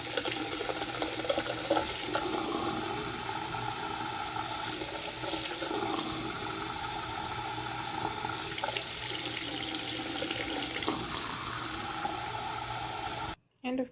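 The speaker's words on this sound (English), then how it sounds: "I'm just gonna run this guy under some hot water." Hot tap water running steadily over a small plastic toy figure in a sink, a continuous splashing hiss heard close up that cuts off abruptly at the very end.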